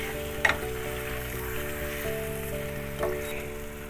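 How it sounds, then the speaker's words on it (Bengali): Spice-coated chicken sizzling in oil with beetroot and yogurt, a constant close hiss of frying with a couple of faint clicks from stirring, no talking. "এবারে আমি মশলা মাখা মাংসটা দিয়ে দিলাম এবারে আমি এটা ভালো করে কষিয়ে নিচ্ছি"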